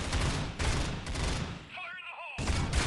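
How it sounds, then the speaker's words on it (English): In a Critical Ops tournament match, heavy rapid gunfire fills the scene with a grenade blast among the bursts, loud and close, with a short lull before the firing resumes. "the grenade straight to the face"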